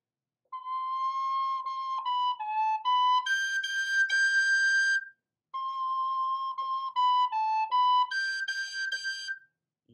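A tin whistle plays the opening phrases of The Colleraine Jig alone, a clear, bright melody with quick note changes, repeated twice with a short pause between phrases.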